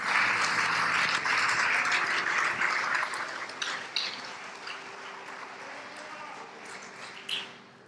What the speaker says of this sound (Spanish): Denle un aplauso a las mujeres, al Señor